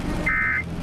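A loud radio weather alert beep for a tornado warning: one steady electronic tone lasting about a third of a second over a low background hum.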